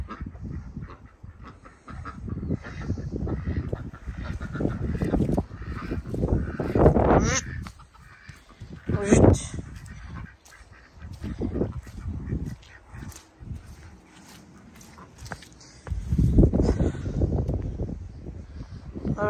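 Geese and ducks in a muddy farmyard honk and quack in loud irregular bursts, with someone talking over and between the calls.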